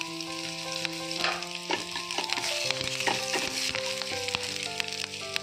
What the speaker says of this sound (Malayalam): ഇതിനും ഉള്ളിയൊന്ന് പൊക്കാവുന്ന വരെ നമുക്കിതൊന്ന് നല്ലോണം ഇളക്കിയെടുക്കാവുന്നതാണ്